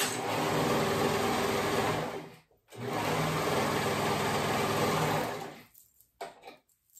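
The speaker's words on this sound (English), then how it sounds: "I'm gonna sew at those edges to make it one long band." A sewing machine stitching together the short raw edges of a sweater band: two fast, steady mechanical whirring runs with a brief pause between them, close and loud, then a few light handling clicks.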